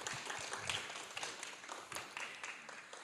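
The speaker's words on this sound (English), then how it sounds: "one last round of applause for all our speakers" A lecture-hall audience applauds its student speakers after a university lecture series talk, dense clapping blending into a continuous wash for a few seconds, with faint voices mixed in.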